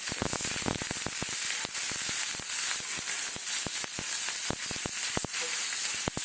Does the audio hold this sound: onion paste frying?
yes